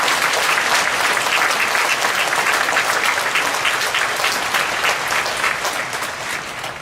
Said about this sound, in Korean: 우리 박수 한번 치고